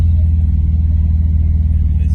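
A car drives slowly through a flooded street after heavy rainfall in Sosúa, with a loud, steady low engine rumble close by and a faint wash of water over it.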